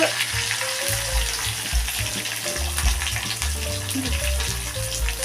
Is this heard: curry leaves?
yes